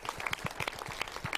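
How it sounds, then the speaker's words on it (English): A live podcast audience claps briefly for a guest, quick close hand claps in a short burst at fairly low level. "give a big round of applause for Mr. Houston Gunn."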